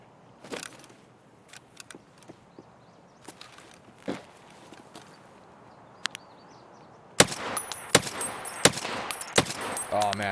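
Sharp rifle shots from an SR-25 in the Escape From Tarkov video game, a sparse few in the first half, then a loud burst of rapid cracks and clatter near the end.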